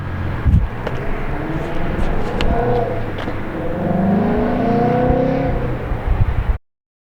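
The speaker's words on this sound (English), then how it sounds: "We're comparing my stock GT350 exhaust to one with long tubes" A loud, deep Ford Mustang GT350 exhaust with long tube headers revs and roars steadily, rumbling and swelling for several seconds before cutting off abruptly.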